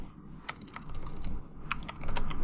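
Quick typing on a computer keyboard, a run of close, crisp keystrokes in short irregular bursts over low background hum, with no talking.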